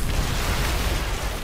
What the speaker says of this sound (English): volatile explosions do a lot of damage